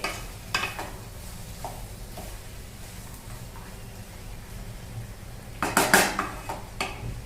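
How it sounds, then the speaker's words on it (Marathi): A spoon scrapes and clatters against a pan while bhaji masala is stirred into capsicum, peas and potato, with a soft steady sizzle underneath and a louder burst of metallic knocks near the end. "भाजी मसाला तो पण मिक्स करत आहे।"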